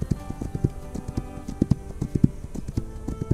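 Rhythmic clip-clop of video game horse hooves at a steady trot, fairly close, repeating evenly with no voices over it.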